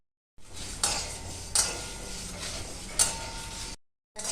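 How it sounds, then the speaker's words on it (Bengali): Spices for a sweet-sour mango pickle fry in a pan, a steady close sizzle broken by a few sharp scraping clinks of a spoon against the pan, starting and ending abruptly. "আর এক ঢাকনা ভিনিগার মশলাটা ভাজা যাক"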